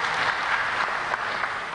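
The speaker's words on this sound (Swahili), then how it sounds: "Kwa mara nyingine tena naomba tuwapigie makofi panelists kwa kazi hiyo nzuri." A conference audience on a national tax forum gives sustained, dense applause for the panelists, steady and loud throughout without pause.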